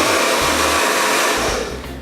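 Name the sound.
hair dryer blowing on cold mode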